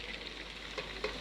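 Garlic and ginger fry in a hot pan for vegetable biryani, a quiet steady sizzle with a couple of faint stirring clinks, no talking.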